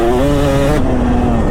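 Loud, close engine of a 2005 Kawasaki KX250 two-stroke dirt bike, a buzzing drone whose pitch sags steadily as the throttle comes off after a brief high run.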